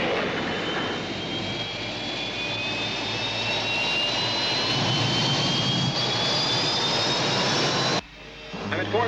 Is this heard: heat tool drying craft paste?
no